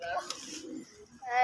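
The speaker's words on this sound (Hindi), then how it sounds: "हमारे देखे कबूतर भी तकरीबन उड़ रहे हैं" Soft pigeon cooing sounds in short bursts, close and fairly quiet, with a voice talking faintly alongside.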